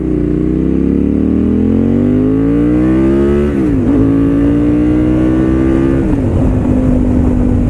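A KTM 990 SMT supermotard motorcycle pulls hard through the gears, its engine note climbing steadily, dropping at two shifts and rising again, loud and close with wind noise.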